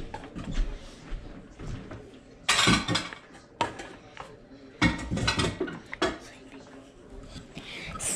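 Plates for wings are handled and set down in a home kitchen, giving several loud clattering knocks and scrapes between quieter stretches of handling noise.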